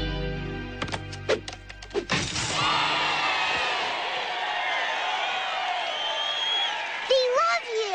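A large crowd cheers and roars in a sustained, loud wash of voices after a few sharp knocks and thuds, with shouts rising near the end.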